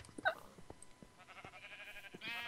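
Sheep in a blocky video game bleat in short, faint cries, a couple of quick bleats early on among soft clicks and game noises, with a brighter game sound at the end.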